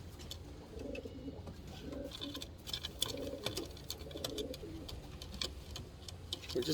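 Racing pigeons coo in soft repeated low calls, several phrases in a row, with light rustling and clicks from the loft around them.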